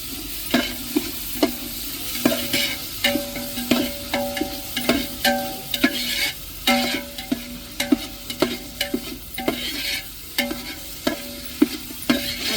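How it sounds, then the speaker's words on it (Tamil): Ginger garlic paste sautéing in a pan, with loud, close, rhythmic clacks of a spatula against the metal repeating every half second or so over a constant sizzle, with no voices. "நல்லா இஞ்சி பூண்டு பச்சை வாடை போட்டதையும் வதக்கி விட்டுக்கிடுவோம்"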